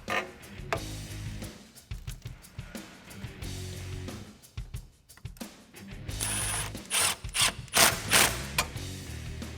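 A ratchet clicks in short bursts as the air intake coupler clamp is tightened on a 2011-2014 Mustang GT cold air intake, with rapid metallic clicking that becomes louder and choppier toward the end.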